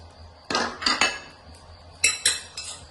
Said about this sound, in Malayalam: സ്പൂണ് നെയ്യും താഴെ പോയതാട്ടോ, പേടിക്കണ്ട